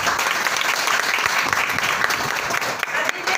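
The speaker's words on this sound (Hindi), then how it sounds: "एक बार सीमा जी के लिए जोरदार तालियां" Loud applause fills a weekly business meeting room for Seema, a trainer, steady and dense clapping from a crowd, heard close with no break.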